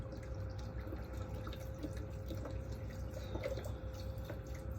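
Chicken broth poured from a 32-ounce box into a pot while making white chicken chili, a faint, steady liquid trickle and drip close by, with no talking.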